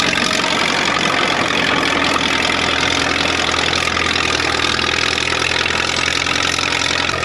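Rebuilt Caterpillar D4 bulldozer engine running loud and close, a dense continuous diesel rumble and clatter that holds steady without a break while filling in a ditch.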